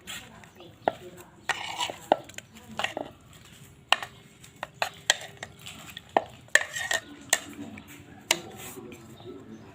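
Pork sausage being tossed and mixed into a papaya salad, giving a run of sharp knocks and scrapes at irregular intervals, moderately close and fairly quiet, with no talking.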